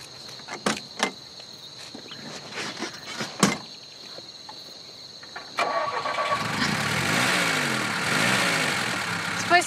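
A car engine starting after an armored wire repair. Scattered clicks and clunks come first, then the engine catches and settles into a steady idle, close by.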